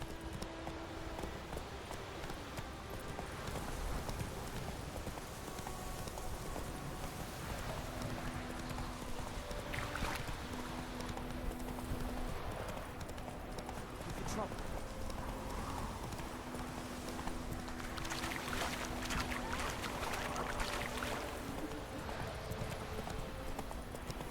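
Rhythmic hoofbeats of a horse galloping and trotting in the video game Witcher 3 continue steadily throughout, mixed with game ambience, occasional tonal music-like hums and faint effects.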